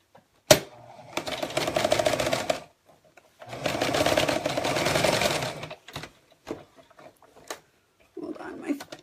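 A sewing machine stitching a quarter-inch zipper seam runs in two steady whirring bursts of a few seconds each, close up, with a sharp clack at the start and someone talking softly between and after the runs.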